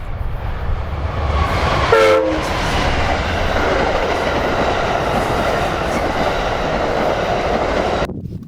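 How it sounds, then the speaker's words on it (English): Amtrak's westbound Southwest Chief passenger train rolls past a semaphore signal in New Mexico, with a loud continuous rumble and clatter of cars, a brief horn blast early on, and an abrupt cutoff at the end. "catching train number 3, the westbound Southwest Chief, on the 2nd of April as it rolls past signal"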